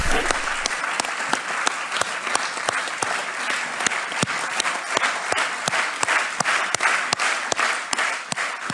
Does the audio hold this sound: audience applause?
yes